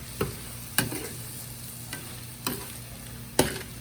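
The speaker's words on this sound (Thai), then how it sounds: "คนให้กุ้งสุกทั่วกันนะครับ" Shrimp frying in a pan are stirred, giving a continuous sizzle broken by five sharp scraping clacks of the utensil at irregular intervals, close up, with no talking.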